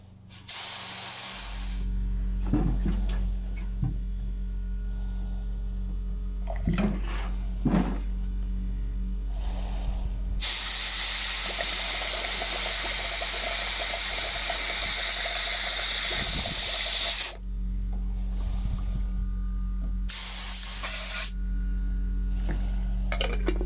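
Spray gun spraying primer onto a hospital bed's head and footboard in several hissing bursts, short ones first and then a long continuous spray, then more short bursts, close and steady with no talk.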